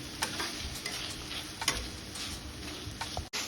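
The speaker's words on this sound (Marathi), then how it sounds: "आता यामध्ये आपण हिरवी मिरची ऍड करून घेऊया आणि हिरवी मिरची पण छान परतून घ्यायची आहे सर्व साहित्यासोबत" Green chillies, onion and tomato sauté in a pan for shev bhaji, a soft continuous sizzle with light, irregular spatula taps and scrapes against the pan.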